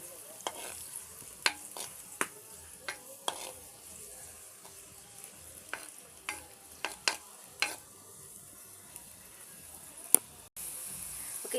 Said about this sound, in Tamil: இது கூடவே பச்சை மிளகாயும் நீங்கள் வந்து சேர்த்து போட்டு கொஞ்சமாக வதக்கி எடுத்துக்கோங்க